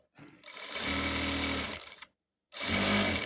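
A sewing machine stitches churidhar lining in two close, loud bursts of rapid needle hum, the first long and the second starting after a short silence.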